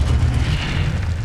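A spell cast in the video game Hogwarts Legacy, the Expelliarmus disarming charm, lands as a loud, sustained magical rumble with a low booming burst that fills the whole moment, no voices over it.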